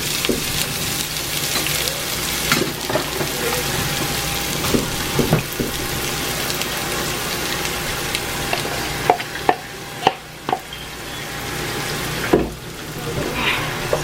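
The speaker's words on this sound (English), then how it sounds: "we're going to add our red onions and let them cook until they get translucent" Red onions frying in a pot for jollof rice, a steady close sizzle running throughout with a few sharp clinks and spoon knocks near the end.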